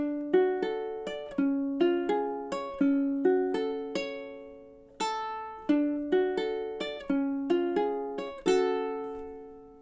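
A ukulele plays the four-measure intro of a Halloween song as a string of crisp plucked notes in a steady lilting rhythm, close-miked and solo, with no voices.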